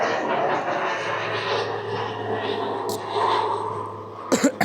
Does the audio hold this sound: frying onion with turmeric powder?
no